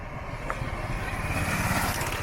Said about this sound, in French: Donc, une moto.